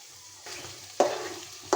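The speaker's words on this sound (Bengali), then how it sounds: "আমাদের ডিমটা ভাজা ভাজা হয়ে গেছে" Kalibaus fish roe frying in a pan, a soft steady sizzle broken by two sharp scraping stirs of a spatula, close and alone with no talk.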